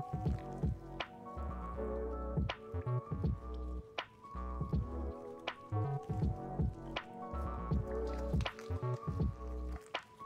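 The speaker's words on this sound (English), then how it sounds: "Liquid dripping." Liquid dripping in the anime Heavenly Delusion: repeated wet drips and squishy plops at an irregular rhythm over a sustained musical drone, fairly quiet with no talk.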